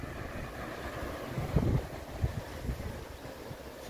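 Light wind on an outdoor trail, a soft low rumbling buffet with a few stronger gusts against the microphone, faint and continuous with no talk.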